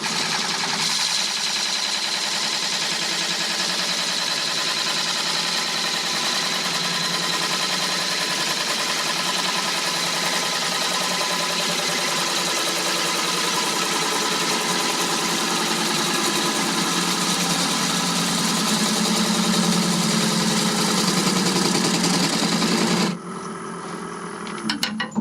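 A wood lathe turns a bowl held in a Longworth chuck while push cuts are taken, giving a loud continuous whirring hiss with a rasping cut that holds steady for over twenty seconds, then drops off near the end.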